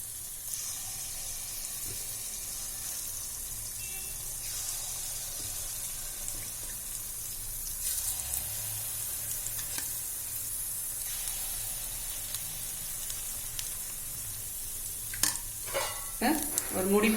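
Ragi sweet kuzhi paniyaram batter poured into a hot paniyaram pan gives a soft, steady sizzle throughout, with a few sharper clinks and spatters near the end.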